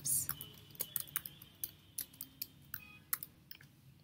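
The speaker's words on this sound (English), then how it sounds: "Type in work from home and click on find jobs." A search is typed on a computer keyboard, giving a quiet, irregular series of sharp key clicks over about four seconds against a soft background.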